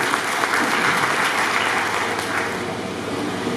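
An audience applauds the organising team at the opening of an employment, entrepreneurship and career counselling camp, a dense, steady roar of clapping that carries at even loudness throughout.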